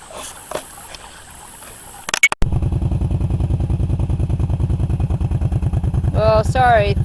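A side-by-side utility vehicle idles close by on a ranch beside a low river, its engine starting with a few clunks and then settling into a loud, rhythmic low putter, with a voice briefly heard near the end.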